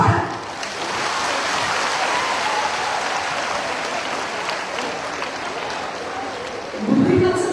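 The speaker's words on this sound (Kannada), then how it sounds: "ಚಪ್ಪಾಳೆ." An audience at a Matru Namana ceremony honouring parents claps in sustained, even applause for several seconds before it tapers off and a voice picks up again.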